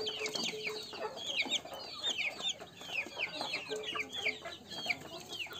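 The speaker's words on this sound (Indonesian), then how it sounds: "Silangan betinanya ayam kampung biasa, pejantannya ayam broiler." Chicks from a cross of a broiler rooster and a village hen cheep and cluck in quick repeated bursts, a busy close-up chorus of small birds with no talk.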